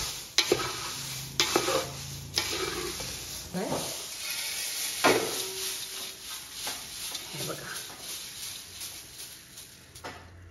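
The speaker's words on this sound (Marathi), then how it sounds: "2 मिनिटं आपण चांगलं व्यवस्थित मिक्स करून घेतलं तर हे सगळं छान एकजीव होतं." A diet poha chivda is stirred and tossed in a pan, with repeated scraping and rustling strokes at an irregular rhythm that are loud at first and then settle into softer, steady mixing.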